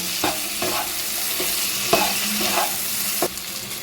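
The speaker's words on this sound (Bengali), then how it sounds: "আবারও আমি খুন্তির সাহায্যে নেড়ে ছেড়ে কিন্তু মিশিয়ে নেব" A spatula stirs fried pointed gourd, potato pieces and rohu fish in a pan, with repeated scraping strokes over a steady sizzle of frying, close and clear with no voices.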